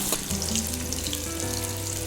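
Steady, dense sizzling of eggplant and onions frying in oil, close by, with a faint low hum underneath and no talking.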